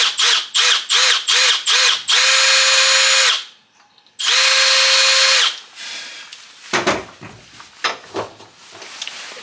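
A power drill bores a hole near an engine gasket. It starts in short whirring bursts, then runs in two long steady spins separated by a pause, and ends with scattered clatter and handling noises.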